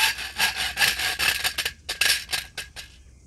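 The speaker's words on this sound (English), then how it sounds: "I got my saw. It's one with three blades." Back-and-forth strokes of a three-blade camp saw, one blade a hacksaw blade, cutting through wood at a bushcraft camp: a close, steady rasping rhythm of about a dozen strokes with brief pauses, no talking.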